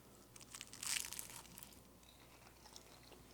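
Someone bites into a crunchy phyllo baklava cup and chews, giving a quiet, close burst of crackling crunch early on, followed by softer intermittent crinkly chewing.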